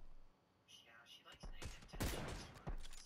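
Rapid bursts of video game gunfire in a battle royale shootout crack out in clustered volleys, loud and close, with quieter gaps between them.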